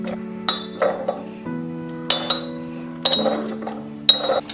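Mint leaves pressed in a glass for a mojito, giving a series of sharp clinks and taps against the glass, some ringing on briefly, spaced irregularly with quiet gaps between.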